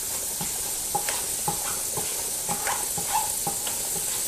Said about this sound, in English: Shake the can up.